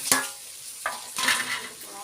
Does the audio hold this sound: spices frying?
yes